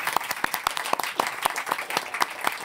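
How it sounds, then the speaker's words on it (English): A small group claps for panel participants at a city-planning discussion: sparse, uneven, fairly close claps over about three seconds, with no voices over them. "I want to clap for you"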